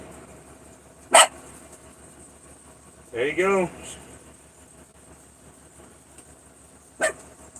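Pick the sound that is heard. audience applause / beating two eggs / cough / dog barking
dog barking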